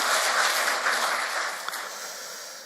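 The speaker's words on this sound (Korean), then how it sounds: "여러분들 다시 한번 찬양대원들을 위해서 박수 좀 해주실까요?" A church congregation applauds its choir at the year's last Sunday worship service, a loud, even wash of clapping that holds steady and tapers slightly at the close.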